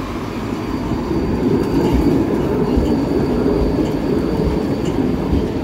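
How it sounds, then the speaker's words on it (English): A Vienna tram rumbles past close by on the Burgring, a steady low rolling roar of wheels on rails with faint rattling, holding loud for several seconds. "Two sets of trams."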